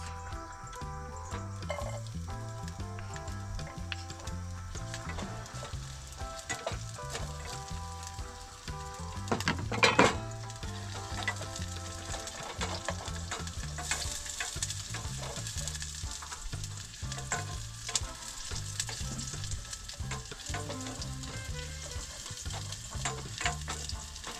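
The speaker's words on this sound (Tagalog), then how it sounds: "igigisa lang natin tong bawang tas sibuyas" Garlic and onion sauté in a pan at an outdoor farm cookout, a steady dense sizzle with occasional stirring scrapes and one louder flare of frying midway, no talk.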